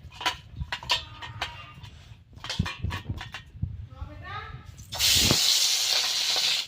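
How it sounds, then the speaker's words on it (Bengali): Voices murmur at first, then a loud, steady hissing sizzle erupts as shrimp, rubbed with salt, hit hot oil, sharp and close. "এই যে চিংড়ি ভাজানো হয়ে গেছে"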